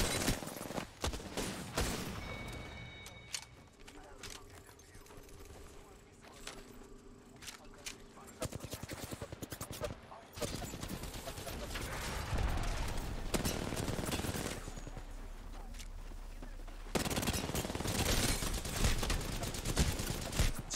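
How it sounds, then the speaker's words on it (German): Repeated gunfire in the video game Apex Legends, rapid bursts and scattered shots at moderate distance throughout, with someone talking over much of it. "Wo werden wir denn beschossen?"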